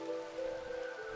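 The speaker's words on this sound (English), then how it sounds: "There we go, there's the rain." Rain falls in the video game RimWorld, a steady hiss of droplets with a faint sustained tone behind it, brief and even in loudness.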